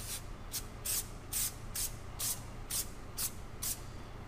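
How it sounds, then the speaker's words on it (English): Brake cleaner is sprayed onto brake surfaces in short, rhythmic hissing bursts, about nine quick squirts in a row, close to the listener over a low background hum. "Yeah, just spray it on there."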